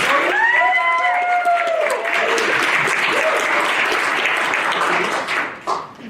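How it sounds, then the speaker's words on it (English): A university lecture audience applauds steadily for about six seconds, the clapping dense and fairly loud, with a voice talking over the first moments before the applause tapers off near the end. "give her a round of applause"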